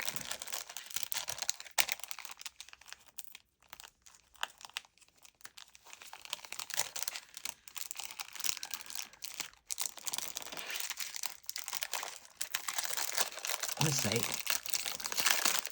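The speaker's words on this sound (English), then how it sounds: "Bags always take forever to open." A plastic bag is opened by hand, giving close, irregular crinkling and rustling bursts that stop and start over the whole stretch, with a voice speaking softly at times.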